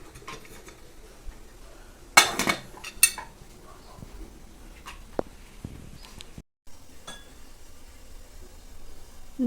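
Pots and dishes from a momo steamer clink and clatter in a home kitchen, with a couple of sharper bursts of metallic knocks among sparse, quieter taps and no talking.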